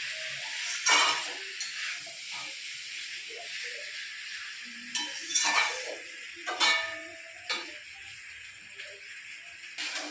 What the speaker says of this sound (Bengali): মশলাটা আমার ভাজা হয়ে এসছে আর দেখুন উপর যে তেলও ছেড়ে দিয়েছে